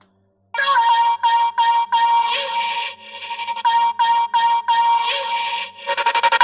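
Harsh resonant frequencies stripped from a drum and bass mix by the Soothe plugin, heard alone as thin, whistly tonal stabs in a steady repeating pattern near 1 kHz, with brighter rapid pulses at the end.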